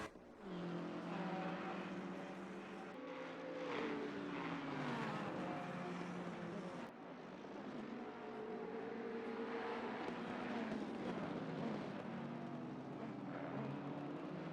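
BMW and Ferrari race cars lapping the Misano circuit during a six-hour endurance race, engines droning loud and steady, with pitch rising and falling as they accelerate and brake through corners.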